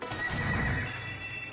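A horse neighs and whinnies briefly in a horse racing slot game, a short bright whinny with faint hoof clip-clop, quiet and alone without talk.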